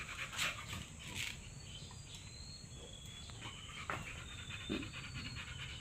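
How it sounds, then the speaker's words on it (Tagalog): A dog pants hard in rapid, steady breaths close by, with an electric fan running indoors after a walk; a few faint whimpers and chirps sit behind the breathing. "Hingal na hingal siya."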